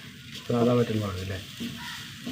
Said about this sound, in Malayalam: ഒന്ന് വറുത്തെടുക്കുക